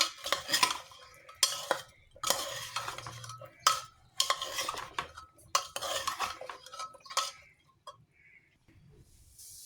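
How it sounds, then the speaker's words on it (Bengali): Vegetables being tossed and mixed with a little soybean oil in a pressure cooker, with clattering metal spoon scrapes and stirring noises in bursts, close and fairly loud, then fading to quiet. "তেল দিয়ে ভালোভাবে আমি তেলটা দিয়ে মাখিয়ে নিচ্ছি।"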